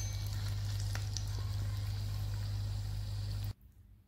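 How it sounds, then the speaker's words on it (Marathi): Cheesy potato bites deep frying in hot oil until golden brown, a dense continuous bubbling sizzle over a low hum that cuts off abruptly near the end. "छानपैकी त्यांना आपण फ्राय करून घेणार आहोत गोल्डन ब्राऊन होईपर्यंत, जेणेकरून आतमधलं चीज मेल्ट होईल."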